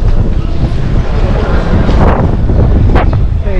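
Strong wind at a crowded viewpoint in Istanbul buffets the microphone in a loud, constant rumbling roar, with faint background sounds briefly rising through it.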